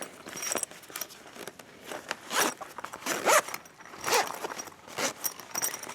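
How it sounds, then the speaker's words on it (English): A coil zipper on a small boxed fabric pouch is worked back and forth with its pulls, giving uneven rasping zips and clicky catches in bursts, close up with no talk. "So this is getting hung up in the zipper, so I'm going to back this off."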